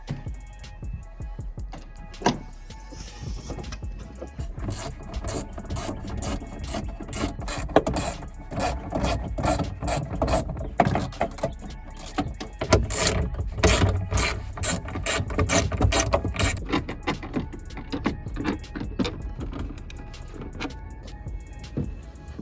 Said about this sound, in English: we might as well just start taking off the stock ones